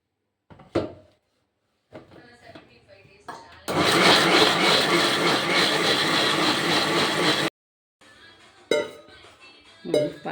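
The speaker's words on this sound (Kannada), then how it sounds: "ಈ ಥರ ಸಣ್ಣಗೆ ರುಬ್ಬಬೇಕು, ನೈಸಾಗಿ." A mixer grinder grinds soaked flattened rice (avalakki) with sago, a loud, steady motor whir lasting about four seconds. Brief clinks and talk come before it, and more talk follows once the motor stops.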